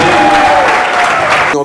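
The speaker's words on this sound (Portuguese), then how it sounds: "Uma salva de palmas para o Marcel e para o Harry Lorenz." Loud audience applause at a gathering of gardeners, dense close clapping and crowd noise filling the whole short moment.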